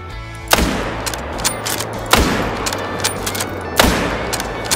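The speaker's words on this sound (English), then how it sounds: "it is time to try out the 308 bolt action and see if it's a viable whitetail grind weapon" Three loud, sharp shots from a .308 bolt-action rifle on a whitetail deer hunt in Call of the Wild, each a crack with a rumbling tail, spaced about one and a half seconds apart, with no voices.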